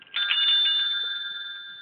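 A bell from Captain Cook's private chapel rings out with one clear struck onset and a bright, steady tone that hangs and slowly fades. It sounds close and alone, with nothing else heard around it.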